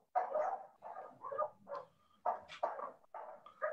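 A dog near a participant's home barks in repeated short, muffled bursts, about eight barks with brief gaps between them. The sound is faint, as if from another room, and no voices are heard.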